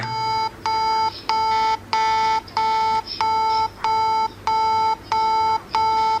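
A loud electronic tone pulses in a regular on-off rhythm, about eight short bursts, from a Kieslect Actor smartwatch pushing water out of its speaker.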